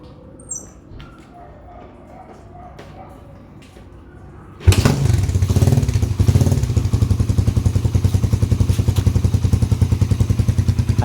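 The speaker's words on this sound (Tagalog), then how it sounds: "try natin paandarin kung aandar ka agad yung 206cc gawa ng T-Race" A 206cc T-Race motorcycle engine fitted with a 32mm carburetor starts after a quiet stretch with light handling sounds, then runs loud and close with a fast, steady, rhythmic idle chatter.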